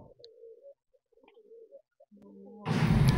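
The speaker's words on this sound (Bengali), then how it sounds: "কবুতরও আছে ভিতরে।" Pigeons coo softly inside a house, a few low, rounded calls repeating over about two seconds before a loud, broad rushing noise swamps everything at the end.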